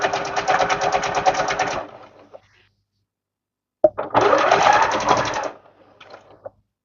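A sewing machine runs in two close bursts of rapid, steady stitching while making a deluxe bow, with a short pause between the runs and light handling clicks after each.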